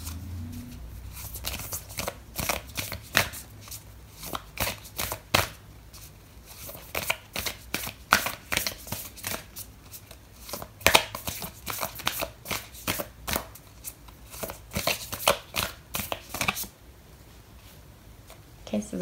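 Oracle cards for a tarot reading are shuffled by hand, giving repeated quick riffling and slapping bursts with short pauses between them, while a person talks softly throughout.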